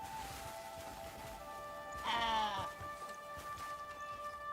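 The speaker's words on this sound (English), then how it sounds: "Goats." Goats bleat in the open-world video game Crimson Desert, one strong wavering cry standing out briefly over a steady ambient game soundscape with faint rustling.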